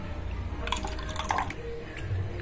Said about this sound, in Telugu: నానబెట్టుకున్న చింతపండు గుజ్జు తీసి ఒక గిన్నెలోకి పోసుకోవాలా.